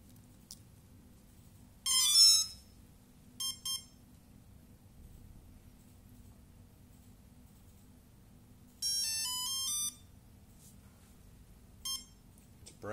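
A HobbyKing ESC sounds its programming menu beeps: short, high electronic tones and rapid ascending tone runs, spaced apart over a low steady hum, with no voices.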